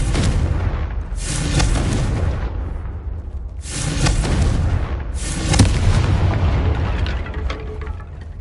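Confringo fire blast spell in Hogwarts Legacy, three heavy booming explosions in succession, each a loud burst decaying into rumble, with further crackling impacts afterward.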